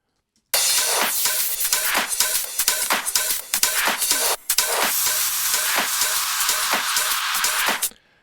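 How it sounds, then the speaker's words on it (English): Layered open hi-hat cymbals in an electronic dance track, a bright continuous hissing wash with rhythmic accents running steadily for several seconds, with one brief dip midway and no voices. "So we have just a bunch of different open hats that kind of accent each other."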